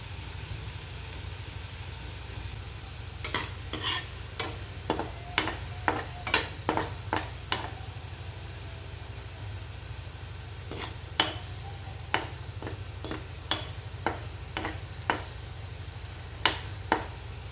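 Shankarpali dough pieces frying in hot oil give a steady low sizzle throughout, with clusters of sharp clinks and scrapes from stirring in the pan coming in bursts near the middle and end.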